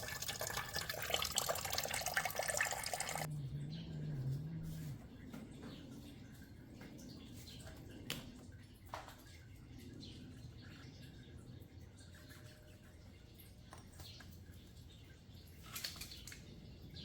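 Coolant drains from a Toyota Camry radiator. A steady hiss of pouring fluid comes first, then scattered faint drips and trickles follow in a quiet workspace.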